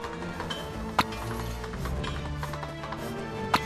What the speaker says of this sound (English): Horses ready.